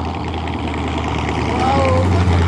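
Loud, steady engine roar from a Chevrolet engine with its four-barrel carburetor opened up, running slightly rough and rising a little toward the end, close to the source with a voice mixed in.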